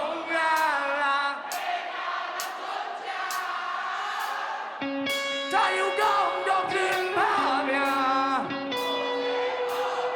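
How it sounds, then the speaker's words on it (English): Crowd chanting at a live metal concert, voices shouting in rhythm amid sustained guitar lines and sharp drum hits, loud and dense throughout. "Nice to have the crowd chant in there as well."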